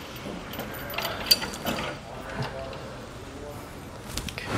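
A ratchet turns bolts to start their threads while a Roadmaster Direct-Connect base plate is fitted to a 2019 Jeep Wrangler, producing soft, quick clicking runs close by with faint background noise.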